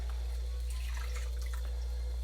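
Vegetable broth and water poured into a crock pot for carrot ginger soup, a soft liquid splashing and trickling over a loud steady low hum, close by with no talking.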